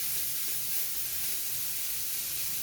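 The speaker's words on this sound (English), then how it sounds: "Just going to put our turkey to cook." Lean ground turkey sizzles steadily in a hot pan, a continuous close frying hiss with no talk over it.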